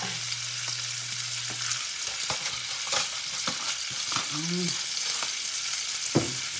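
Food frying in a pan with dried salted fish and pepper added, a steady close sizzle with occasional stirring clicks and scrapes, no talking.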